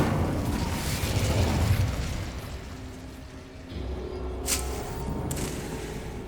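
Incendio fire spell blast in the Hogwarts Legacy video game: a loud roaring rush of flame and crackle fills the opening seconds, then eases into a lower burning rumble with a brief sharp pop near the end.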